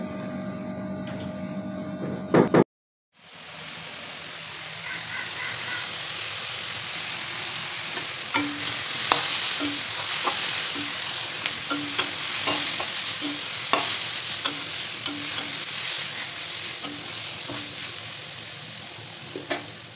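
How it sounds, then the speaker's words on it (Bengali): Onions with salt and turmeric fry in a pan, giving a steady sizzle broken by regular scraping taps as a spoon stirs them, following a brief silent gap at the start. "পেঁয়াজটাতেও পরিমাণ মতো লবণ আর হলুদ গুঁড়ো দিয়ে দেব। তারপর ভালোভাবে ভেজে নেব।"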